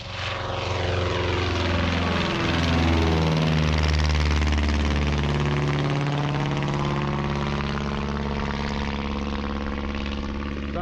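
Propeller aircraft engine roaring in a flyby at the Montrose air show in Scotland, a loud sustained drone whose pitch sweeps downward as the plane passes close and then fades slightly.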